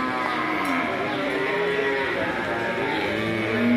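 Cattle at a livestock market low repeatedly in long, droning moos, loud and close over a continuous crowd murmur, with several animals overlapping throughout.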